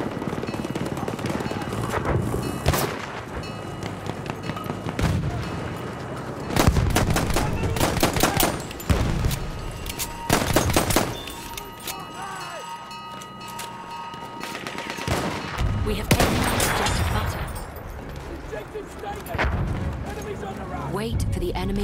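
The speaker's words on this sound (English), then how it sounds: "Wait for the enemy artillery barrage to stop firing." An enemy artillery barrage pounds away in a video game, loud booms and crackling bursts arriving in irregular clusters over about twenty seconds, with someone talking across the din.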